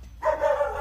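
A single short dog bark or yip sounds indoors in a house, brief and somewhat distant, with no talking.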